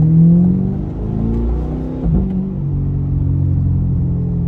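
A C8 Corvette fitted with a titanium exhaust cruises along, its deep, steady exhaust drone loud and close throughout, with one brief swell in revs partway through and no talking.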